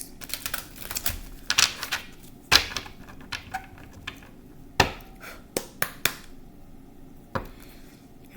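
Irregular crisp clicks and flicks, some sharp slaps among softer rustles, as tarot cards are riffled and tapped close by.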